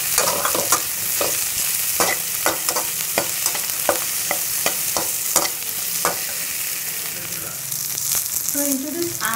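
Garlic cloves and ginger fry in a pan with a loud, continuous close sizzle, broken by a quick series of spoon scrapes and stirring strokes, and no voices.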